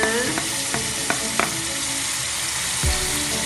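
Butter fried chicken with tomato stirred in a pan, steady loud sizzling throughout with several scraping stir strokes and a knock near the end.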